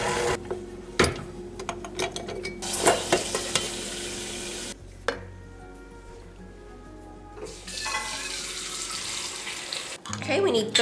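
KitchenAid stand mixer shredding cooked chicken for slow cooker chicken, a steady mechanical whir with bursts of clattering and scraping against the bowl, near and fairly loud, with short pauses.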